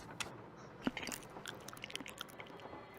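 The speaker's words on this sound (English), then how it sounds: "Ew, it's disgusting chewing." A video game character chewing a juicy loquat, with wet crunchy bites and chewing clicks in an irregular run over a few seconds, close and moderately loud, with no talk.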